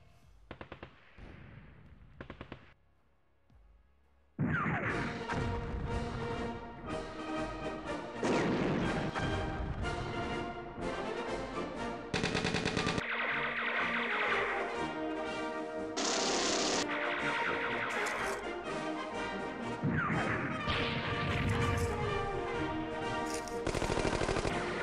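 Indirect 75mm artillery fire in the 1999 strategy game East Front 2, a loud, dense barrage of booming shots and rapid gunfire that starts after a quieter opening and keeps pounding for about twenty seconds.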